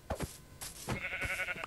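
Sheep bleating in the Minecraft video game, a few short nasal bleats in quick succession, fairly close and clear with no talking over them.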